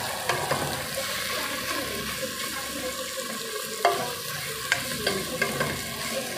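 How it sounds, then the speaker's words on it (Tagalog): Ground pork being sautéed in oil in a pan, a steady close sizzle with scraping and stirring clicks from the utensil throughout, no talking. "gigisa-gisa muna natin yung ating giniling. Palabasin muna natin yung mantika."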